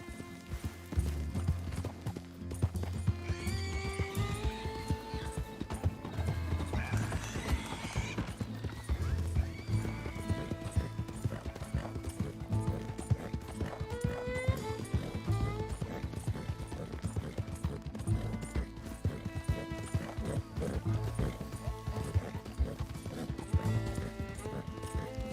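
A horse in the Red Dead Redemption 2 video game clops along with repeated hoofbeats and lets out whinnying neighs, over a bed of soft in-game music throughout.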